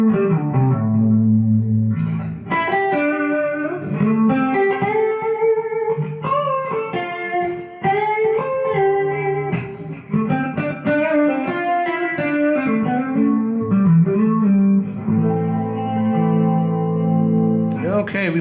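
An electric guitar played through a Vox Valvetronix VT40+ amp with chorus and delay effects and no reverb rings out in a steady, loud run of chords and sustained notes, with shimmering, repeating tails.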